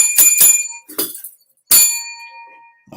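A bright metal bell rings three times close by, with quick strikes early on and a longer ringing tone that trails off, and no talk over it.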